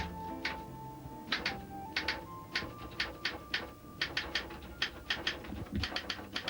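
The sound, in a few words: writer's typewriter typing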